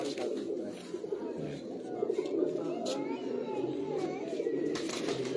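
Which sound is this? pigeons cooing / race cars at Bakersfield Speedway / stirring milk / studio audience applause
pigeons cooing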